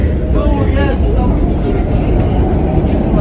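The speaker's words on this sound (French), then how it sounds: "Les gars, là, je suis dans le métro." Loud, rumbling interior noise of a Brussels metro train in motion, a dense low roar with rattles, while a person talks over it.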